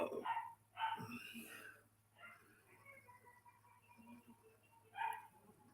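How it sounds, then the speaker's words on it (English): A German Shorthaired Pointer barks in muffled bursts from another room, a couple of barks near the start and another later, under quiet, faint background sounds. "she's in the other room right now, just barking up a storm."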